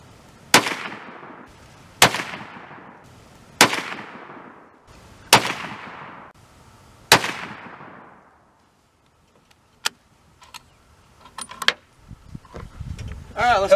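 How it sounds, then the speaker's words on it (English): 300 Blackout rifle firing 100 grain Hornady soft jacket bullets at 35 yards, five sharp loud shots spaced about 1.5 seconds apart, each with a short decaying echo, followed by quieter clicks and handling noise. "we're shooting 100 grain short jacket Hornady bullets"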